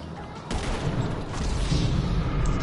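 Sniper rifle shots in a video game break in with a sudden loud bang that leads into sustained, heavy gunfire and rumbling, close and forceful.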